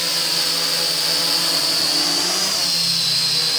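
A hexacopter drone hovers indoors with a loud, steady, high-pitched buzzing whine from its rotors, which shifts slightly in pitch toward the end.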